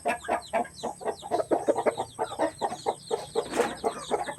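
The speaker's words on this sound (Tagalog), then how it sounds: "So yan mga kababayan, at tapos na po nating napakain yung alaga natin mga manok." Chickens cluck rapidly and steadily close by at feeding time, a dense run of short clucks with no talking.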